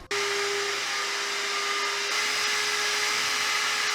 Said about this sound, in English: I cleaned it up, vacuumed it out.